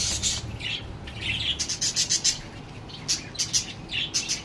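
Diamond doves in a garden giving short, repeated high calls in bursts over a low, steady background hum, fairly faint and without talk.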